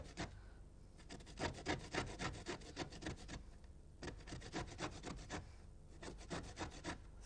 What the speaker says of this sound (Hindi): आप एक नींबू ले लें और ग्रेटर ले लें और उस पे नींबू को रगड़ें